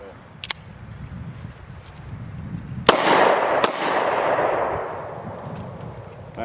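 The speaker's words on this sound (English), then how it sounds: "we're going to actually fire 2 45s" A Double Tap Defense pocket pistol fires .45 rounds at an outdoor range, giving sharp, loud cracks: one early, then two in close succession with a rolling echo, over steady background noise.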